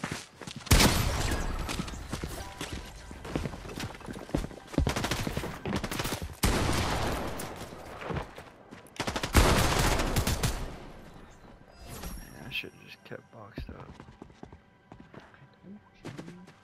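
Gunfire in the Fortnite video game, loud bursts of rapid shots broken by short pauses, fading to quieter game sounds toward the end.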